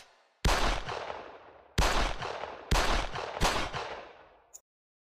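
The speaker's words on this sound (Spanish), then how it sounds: "y le propina 4 tiros" Four loud, sharp gunshots ring out in a close indoor room, the first three spaced roughly a second apart and the last following quickly, each with a short decaying reverberant tail, then silence.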